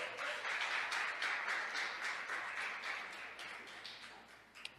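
A congregation at a Nazarene church service applauds in a steady, dense wash of clapping, heard from a moderate distance and easing slightly toward the end.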